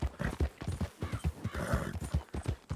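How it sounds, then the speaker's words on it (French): Horse hooves clip-clopping steadily while riding in the Red Dead video game, a brisk even rhythm of hoof strikes, fairly close, with no talk over it. "Un cheval. Oui, oui, un cheval, oui."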